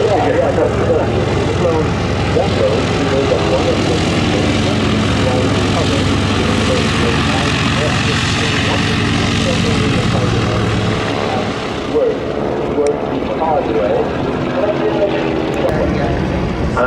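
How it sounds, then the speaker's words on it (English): A Lufthansa Junkers Ju 52 trimotor propeller aircraft drones steadily overhead while landing over a motorway at Duxford, deep rumbling engine note, loud and continuous, easing off slightly near the end as it passes. "Coming into land over the motorway is the Lufthansa 52."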